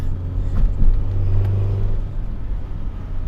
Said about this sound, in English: it sounds like I have a little bit more valve tapping